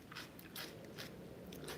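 Crisp crunching bites into raw bitter melon, four short bursts of crunch in a steady chewing rhythm, close and fairly quiet, with no talking.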